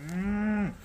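A Limousin heifer calf gives a single loud, close moo, a steady tonal call under a second long that drops in pitch at the end, with no talk over it.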